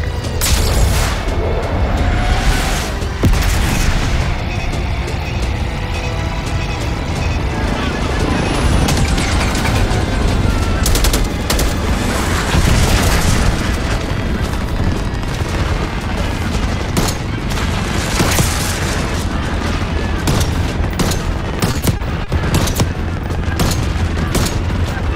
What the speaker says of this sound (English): Mortar strike available.